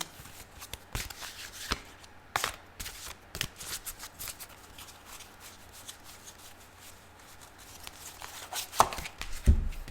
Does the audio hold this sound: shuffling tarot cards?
yes